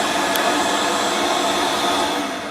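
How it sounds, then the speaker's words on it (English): A vacuum hose fitted to a sink drain line to suck out a clog gives a steady, loud broadband whooshing roar that holds even throughout, close by, with no talking. "Hook the hose on the back, turn the line on, and let the suction do the work."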